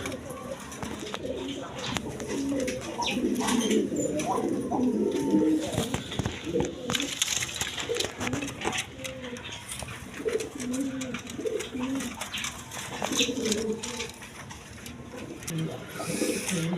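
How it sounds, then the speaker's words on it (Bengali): Pigeons, a pair with a chick, coo in low repeated throaty phrases close by, with someone talking over them much of the time and some mechanical rattle behind. "এখানে এক পেয়ার পোকা কবুতর আছে দেখেন সঙ্গে একটা বাচ্চা আছে"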